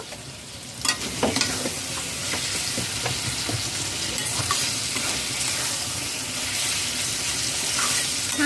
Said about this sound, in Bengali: ভালো করে নাড়াচাড়া করে মিশিয়ে নেব